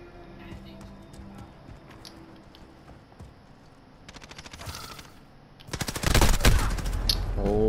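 An MP5 submachine gun fires in the game Modern Warfare, in loud rapid bursts of automatic fire that grow denser and heavier toward the end, over a busy, noisy in-game background.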